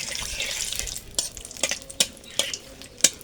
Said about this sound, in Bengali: সরষের তেল, তেলটা গরম হয়ে গেছে, দিয়ে দেবো 2টো শুকনো লঙ্কা